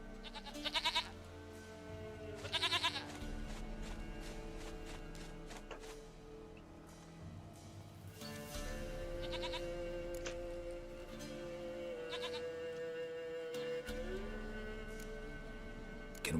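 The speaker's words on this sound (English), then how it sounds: "Goat of mine, dearest, sweetest goat." A goat in The Witcher 3 video game lets out several loud, wavering bleats at intervals over a low, sustained musical background.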